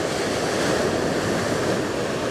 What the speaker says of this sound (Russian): море сегодня бушует